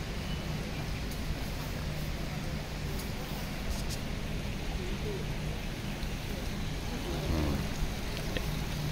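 Steady broadband rushing of hot spring water in Beitou Thermal Valley, Taipei, continuous and fairly loud, like flowing or bubbling water nearby, with a faint voice briefly underneath.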